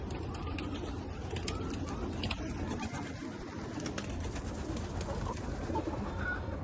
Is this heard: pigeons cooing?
yes